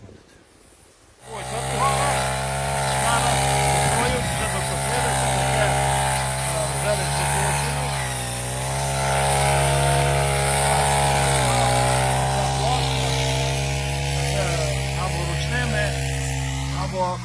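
A steady, loud gasoline chainsaw drone with a harmonic whine runs continuously after a short quiet start, idling close by with slight pitch shifts, in the mountains.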